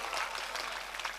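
Audience applause at a mushaira poetry gathering in Motihari, Bihar: a brief burst of many hands clapping, dense and fairly distant, with no talk over it.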